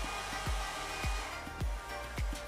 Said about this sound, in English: My brother is blow drying his hair